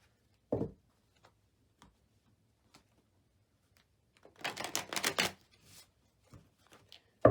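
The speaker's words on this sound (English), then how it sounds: "Feels like it needs one more shuffle." Tarot cards are shuffled in one brief riffling burst of about a second, surrounded by quiet pauses and a few soft, sparse taps as the deck is handled.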